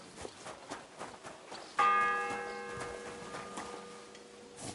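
A church bell in the video game Kingdom Come Deliverance 2 strikes once, loud and ringing, and its tone hangs and slowly fades over soft ticking and footstep-like sounds, with no talking.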